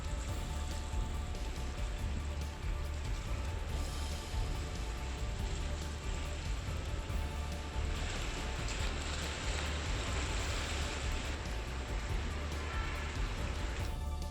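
Heavy rain pours steadily in Nanded, Maharashtra, a dense, continuous wash of rainfall and running water that stays loud and even throughout, with no talking.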